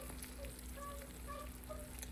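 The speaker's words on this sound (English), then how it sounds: "Woo, she's still sizzling." Soft crackling sizzle of a hot, cheesy baked spaghetti casserole, a faint steady fizz with scattered pops, heard close with no talking.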